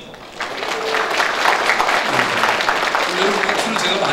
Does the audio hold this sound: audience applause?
yes